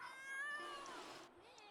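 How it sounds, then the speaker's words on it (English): A cat in The Sims 3 gives one drawn-out, wavering meow that is fairly faint and trails off after about a second. "Meow."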